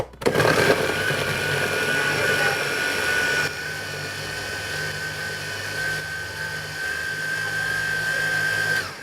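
An electric meat grinder grinding cooked beef, pork and chicken for ravioli and cappelletti filling, giving a steady close motor whine with a high tonal hum that holds throughout and drops slightly in level partway.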